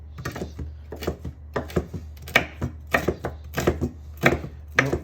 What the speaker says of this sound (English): So I might chop up just a couple of pieces and put them in there